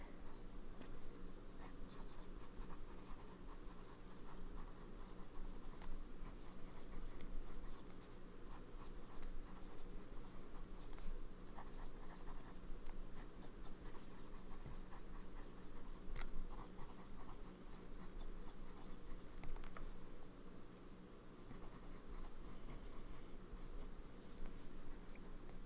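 Fountain pen with a stub nib writing on paper, a steady soft scratching close by that continues for over twenty seconds with faint rhythmic strokes and no talking.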